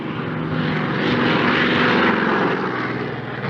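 A propeller-driven naval aircraft approaches a carrier deck nose-up and too slow, its engine a loud, steady droning roar that swells slightly toward the middle and eases off, with no talk over it.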